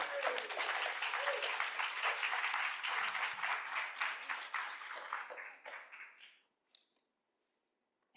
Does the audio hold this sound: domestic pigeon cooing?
no